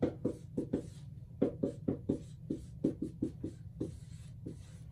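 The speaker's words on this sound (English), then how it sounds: "Okay, so I'm gonna write down a prescription." A pen writes a prescription by hand on paper, its rapid scratchy strokes coming in short irregular bursts close by, with no talking.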